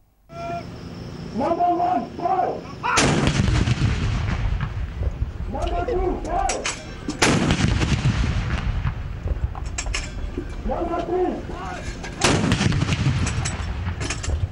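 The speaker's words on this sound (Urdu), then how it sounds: "وفاقی دارالحکومت اسلام آباد میں 31 اور صوبائی دارالحکومتوں میں 21 توپوں کی سلامی دی گئی۔" Artillery cannons fire a ceremonial gun salute for Pakistan Independence Day, three heavy booming blasts spaced several seconds apart, each rolling away into a long echo, with a brief owl-like call before each shot.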